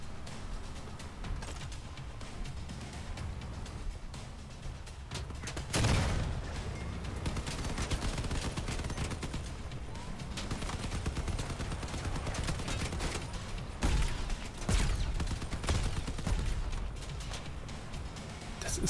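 Gunfire rattles through the vehicle combat game Crossout, bursts of weapon fire and impacts recurring over a steady mechanical din, with someone speaking German over much of it.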